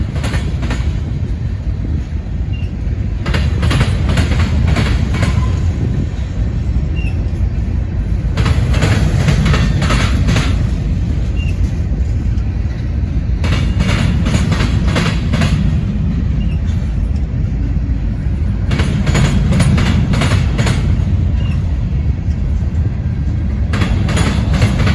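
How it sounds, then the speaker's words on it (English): Freight cars of a long Norfolk Southern train keep rolling by on the neighboring track, heavy continuous rumble broken by repeated clusters of wheel clacks at regular intervals, close and loud throughout with no speech. "Gives you an idea how long this other train was on the other track."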